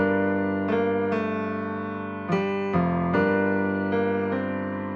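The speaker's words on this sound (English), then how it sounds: "After that, I added some vinyl just to like give it that old school vibe" Piano preset colored with a 90s/70s vinyl effect for an old-school feel, several chord strikes ringing out in a steady progression, close and clear with no voices.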